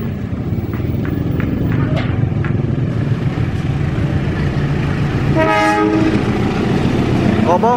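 The Serayu passenger train rumbles past close by at Ciawi, Indonesia, with a steady clatter, and a loud horn blares partway through over the continuous roar.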